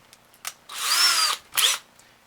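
Short bursts from a power drill with a 7/64 bit: a quick blip, a sustained whirring run of about a second, then another brief burst, close and loud.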